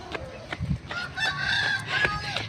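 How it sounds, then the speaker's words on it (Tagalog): Ducks call outdoors in a short series of nasal, harmonic quacks at moderate distance, with faint background noise and no clear talking. "Ayun, itik. Itik. Yung mga itik."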